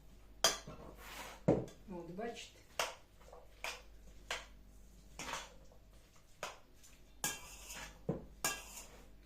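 A spoon clinks and scrapes against a bowl in repeated short strokes while mixing crab stick salad, with a few brief words spoken over it.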